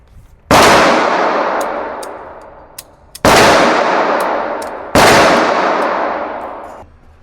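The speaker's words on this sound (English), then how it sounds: "I'm done shooting the 300 blackout." Three loud, close single gunshots from a home-built 300 Blackout rifle, spaced a few seconds apart, each followed by a long decaying echo.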